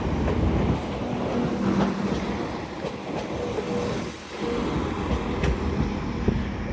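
A Class 195 diesel train rolls into a platform at York station, a loud, continuous rumble of wheels and engine with faint clicks and a brief squeal, with no talking.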